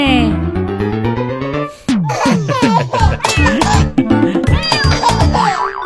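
Several short meows in quick succession, each sliding downward in pitch, mixed with melodic tones.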